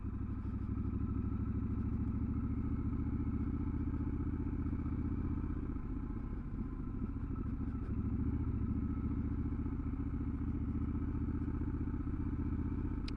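A Triumph Scrambler 1200 XE motorcycle ridden off-road over sandy, muddy ground, its engine droning steadily and close throughout, with occasional clatter and thumps from the terrain and no talking.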